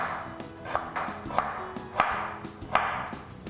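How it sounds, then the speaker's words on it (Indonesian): A knife slices garlic, ginger and galangal on a cutting board, a run of sharp regular taps about twice a second, close and with no speech. "Tapi ini akan saya bantu iris-iris dulu biar lebih mudah menghaluskannya ya."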